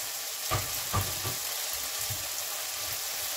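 Oyster mushrooms stir-fry in a pan, a steady close sizzle broken by two sharp stirring clacks early on and softer scrapes afterward, with no talk.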